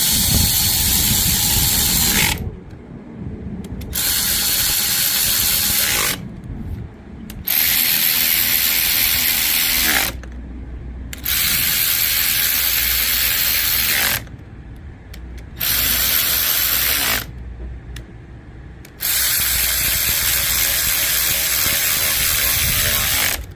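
A ratchet wrench clicks rapidly and loudly while tightening clutch cover bolts on a Yamaha Raptor 660 ATV, in about six bursts separated by short silent pauses, with no talking.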